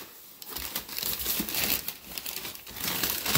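Crinkly plastic packaging is unwrapped and handled up close, loud continuous crackling and rustling with uneven bursts of crumpling, no talking.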